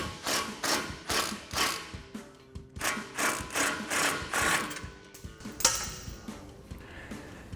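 A ratchet wrench spins a nut off a Ford F-150 truck suspension knuckle during a lift kit install, a steady rapid clicking ratchet rhythm in repeated bursts, close and fairly loud with no talk.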